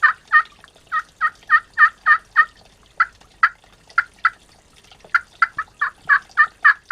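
A friction turkey call (glass, slate or aluminum surface) worked with a striker imitates turkey yelps: a quick run of sharp, evenly spaced clucking notes, a short pause, then another rapid series, close and clear with no talk.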